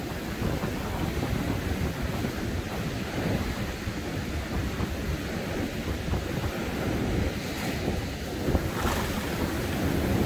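A stream rushes continuously nearby on a beach in Bulgaria, a loud broad churning roar with steady turbulence and some wind noise.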